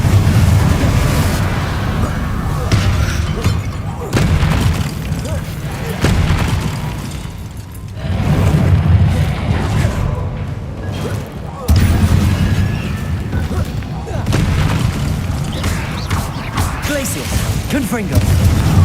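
Confringo fire-blast spells in the Hogwarts Legacy video game, repeated loud booms and bursting impacts across a busy fight, with a voice shouting spell names over them.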